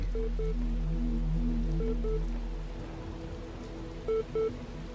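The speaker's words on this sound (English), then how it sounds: "It's raining." Rain falls in The Talos Principle, a steady soft hiss under quiet tonal game music with occasional chiming notes.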